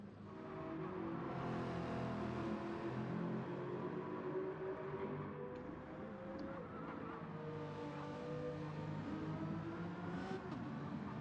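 Racing cars in a video game at the Catalunya circuit, engines droning and rising in pitch as several cars pass by one after another, steady and moderately loud with no talk.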